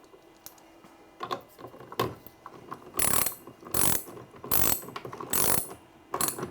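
A ratchet tightens a cable terminal on a Victron electrical system in a series of close, crisp clicking bursts, with short pauses between strokes and the rhythm picking up toward the end.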